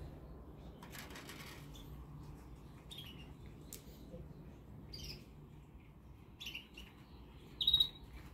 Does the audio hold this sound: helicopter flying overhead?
no